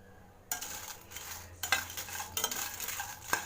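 Dry-roasting ingredients in a pan without oil, with repeated scraping and stirring strokes and small clinks of a utensil against the pan, steady and close.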